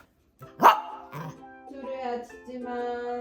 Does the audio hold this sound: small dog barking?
yes